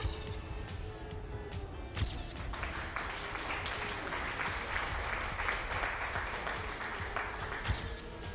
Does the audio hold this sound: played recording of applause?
yes